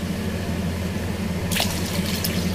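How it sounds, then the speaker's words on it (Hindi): Water is poured into a blender mixture of gram flour and yogurt batter for kadhi, a steady liquid splashing and trickling under a constant background hum, brightening halfway through as the stream hits the mixture. "पानी आप अपने हिसाब से डाल सकते हैं जितनी आपको इसमें ज़रूरत हो।"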